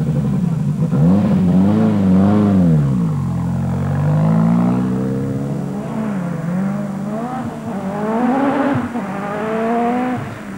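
A Ford RS200 rally car on the 1985 RAC Rally, driven as the zero car, roars loudly and close, its engine note rising and falling as it accelerates, lifts off and revs again through gear changes over about ten seconds.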